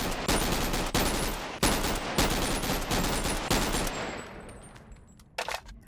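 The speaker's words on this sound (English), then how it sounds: "Next up is the AK-203. It's a pretty standard fully automatic assault rifle." AK-203 assault rifle in BONELAB firing fully automatic in several long, loud bursts of rapid shots separated by brief pauses, ending with a fading tail and a couple of small mechanical clicks.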